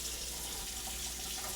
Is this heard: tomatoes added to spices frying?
no